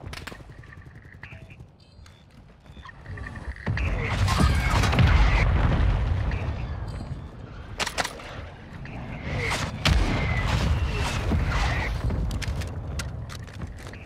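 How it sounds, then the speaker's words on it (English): Mortar strike explosions in Call of Duty: Warzone 2 on Ashika Island rumble and boom in a dense, sustained barrage with sharp cracks and impacts. An automated voice announces over the din. "Hostile mortar strike in the area."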